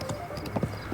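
Hoofbeats of a horse in a Zelda video game, a quick run of close, crisp clip-clops with a brief whinny mixed in, loud and alone without talk.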